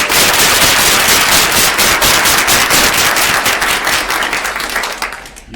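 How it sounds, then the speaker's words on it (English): Loud, dense applause from a large audience at a school gathering, sustained clapping that fills the space and then begins to fade toward the end. "Please give them a big round of applause."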